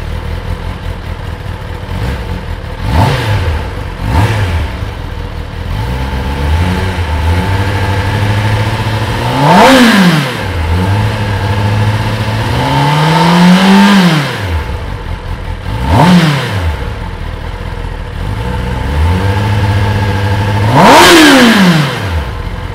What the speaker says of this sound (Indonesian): 4 silinder 1000 cc itu suaranya ada bassnya dan meraungnya keren banget.